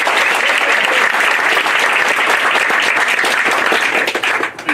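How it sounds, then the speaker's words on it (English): A theatre audience breaks into sustained applause, dense loud clapping throughout that tapers slightly at the very end. "Give them a big round of applause."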